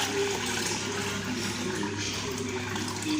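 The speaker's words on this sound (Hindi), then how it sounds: "ये पहला पानी निकाल रही हूँ मक्खन का" Wash water pouring off a bowl of freshly churned homemade butter, a continuous splashing, running flow close by with a soft voice faintly underneath.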